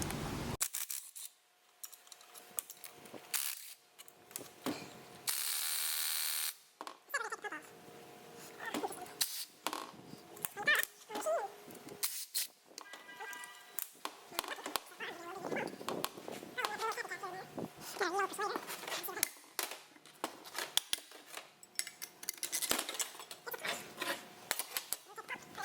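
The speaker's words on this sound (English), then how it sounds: "So we're going to take the fuel pump apart." Metal tools clatter, scrape and click while a fuel pump is disassembled on a workbench, a dense run of close handling noises, snips and taps with brief pauses throughout.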